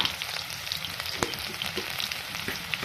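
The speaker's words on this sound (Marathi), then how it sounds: "मिरच्या छान तडतडू द्यायच्या" Green chillies crackle and sizzle in hot oil in a pan for a Maharashtrian sabudana khichdi, a steady close frying hiss dotted with sharp pops and spits, with no voices.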